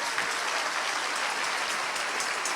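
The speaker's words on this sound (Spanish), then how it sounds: "Un aplauso al Señor." A church congregation applauds after a sermon, a dense, sustained burst of many hands clapping at once, loud and steady throughout with no speech over it.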